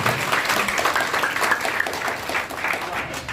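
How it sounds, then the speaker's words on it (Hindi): Crowd clapping at a BJP election campaign event in an Arya Samaj hall in Nagaur, a dense, lively burst of applause filling the short stretch without pause. "जोरदार जो टिकट के आकांक्षी थे उनके लिए जरूर तालियां दें"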